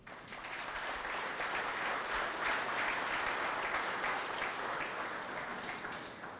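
Sustained applause from an audience at a gym dedication ceremony honoring a fallen lieutenant, greeting the DC Fire and EMS chief; steady, dense clapping throughout, fairly distant and even.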